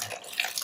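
Coolant-system water running and trickling out of a BMW M3 (F80) during a coolant change, a steady close splashing stream alone for under a second.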